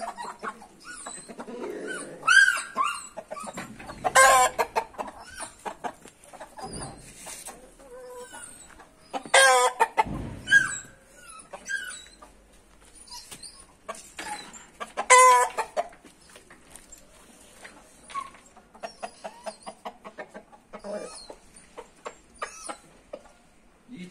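An Aseel rooster and his hens cluck and call close by in bursts, sharp crowing-like calls and rapid clucks, with a dog barking among them in intermittent outbursts.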